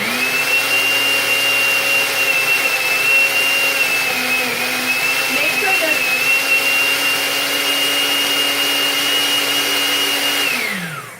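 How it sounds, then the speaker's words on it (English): Kitchen blender running steadily at high speed, blending water-dense vegetables with coconut milk, a loud continuous whirring motor hum that shifts pitch slightly mid-run and winds down at the end, with a brief voice barely audible over it. "I don't know why I tried to compete with the blender."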